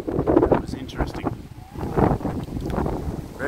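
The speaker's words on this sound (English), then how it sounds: "Very windy still, and I've got to catch up and find the other guys." Strong wind buffets the microphone outdoors in Perth city by the river, a rumbling, gusting roar that swells and eases, with someone talking over it at times.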